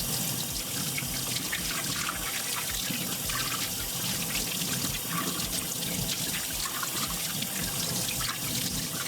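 Tap water runs steadily over a slab of cured pork belly, a continuous close splashing and trickling that stays even throughout with no talk.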